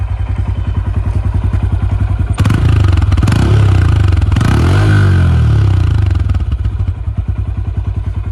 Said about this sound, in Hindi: अब सुनो इसके एग्जॉस्ट की साउंड।